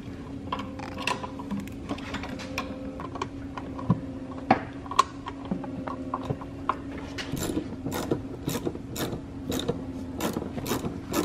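Ratchet wrench loosening external Torx 14 bolts on a BMW automatic transmission (E90/E92/E82/E60), rapid clicking bursts of the pawl, close and moderately loud, growing denser toward the end, with no talking.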